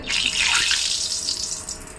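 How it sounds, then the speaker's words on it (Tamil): Vada batter dropped into hot oil in a kadai sizzles with a loud, steady, close hiss that fades only slightly over the couple of seconds, with no talking. "ஒரு கடாய் வச்சு எண்ணெய் ஊற்றி வச்சுருக்கேன் எண்ணெய் காஞ்சிருச்சு இப்போ வடையை போட்டுறேன் பாருங்கள்"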